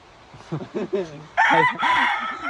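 A pure Kanawayan Henny-line gamefowl rooster lets out a loud, close, drawn-out crow that runs through the second half, broken by a brief dip midway, after a few short low voice sounds at the start.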